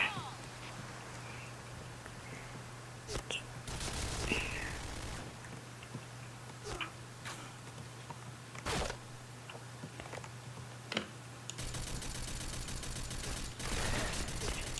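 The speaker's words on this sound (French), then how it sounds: "je joue avec la M4 SR16 FC là, l'arme avec beaucoup de recul" Bursts of M4 SR16 FC assault rifle fire in a video game, several short volleys and single sharp reports spread across a steady hum of game ambience, loud and close.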